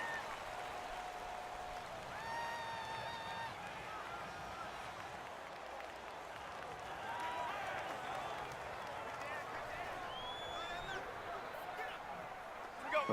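Dense, steady stadium crowd roar from a Madden NFL Super Bowl game, a constant loud wash of cheering and clapping with brief shrill whistles rising through it, no clear talk on top.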